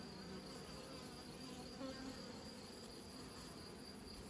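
Honey bees around a nucleus hive make a faint, steady buzzing hum that continues evenly throughout with no talking.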